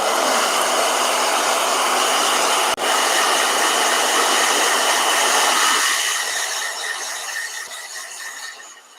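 A blow dryer runs with a loud, steady broadband whoosh, briefly clicks, then gradually fades and tapers off toward the end.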